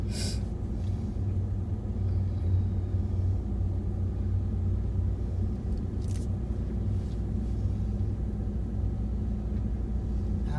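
A car drives through the wooded campus of Torrance State Hospital, giving a steady low engine and road rumble heard from inside, with a couple of brief faint clicks.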